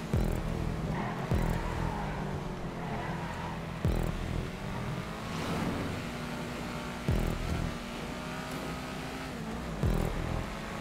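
A race car engine in GTA 5 drones steadily with shifting pitch, rising and dropping through gear changes, with a few sharp bursts along the way.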